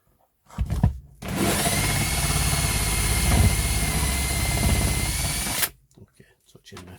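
Power drill boring into the metal underbody of a VW Crafter van while fitting an underslung LPG tank, a loud steady whine running about five seconds, with brief handling noises before and after.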